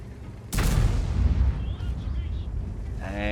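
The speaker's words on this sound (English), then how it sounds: "The artillery decided to finally wake up and do their job." Artillery shell explosion in the World of Tanks game, a single heavy boom with a long rumbling tail, loud over game background noise and followed by faint tonal effects.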